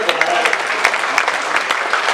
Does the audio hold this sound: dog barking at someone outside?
no